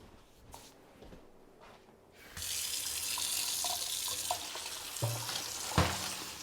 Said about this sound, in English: So we'll just rinse these off and then we'll be ready to go.